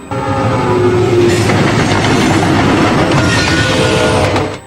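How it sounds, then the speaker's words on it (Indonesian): Freight trains rumble along a railway track in a Code Lyoko animated episode. A loud, steady roar of rolling wagons and clattering wheels holds for several seconds with a high whine riding on top. "Dua kereta barang berada dalam jalur yang akan bertabrakan."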